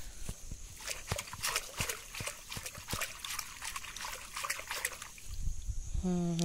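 Water trickles and splashes as freshly pulled peanut plants are rinsed outdoors, with irregular drips and sloshes throughout and a faint voice near the end.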